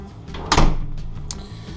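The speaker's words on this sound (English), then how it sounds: "Just going to close the door here." A door closing in a home brewing area, a single soft thud with a brief rattle, close and fairly quiet.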